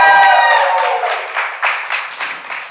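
A live audience cheers and applauds for the week's guest on a coach's talk show, starting with a bright whistle-like tone and then breaking into loud rolling waves of claps and shouts that gradually ease off.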